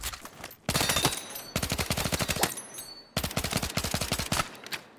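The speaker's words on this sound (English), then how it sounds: "Not that you'd be hip firing at this range. I'm kind of just testing it out" Rapid automatic fire from the SGX submachine gun shot from the hip in Battlefield 6, heard as three long, loud bursts separated by short pauses, with no talking.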